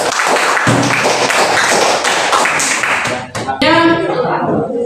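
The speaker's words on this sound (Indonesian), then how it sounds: "beri aplaus kelompok 2" Group 2 gets a burst of dense, close applause from a classroom of students. The clapping runs for about three seconds and then breaks off, and voices carry on afterward.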